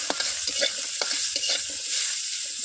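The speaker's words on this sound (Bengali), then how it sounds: "এবারে মূলো গাজর এইভাবে একইভাবে ভেজে নেওয়া হবে" Radish and carrot pieces frying in a little oil for a coconut-milk vegetable shukto, with a soft continuous sizzle and light stirring taps up close.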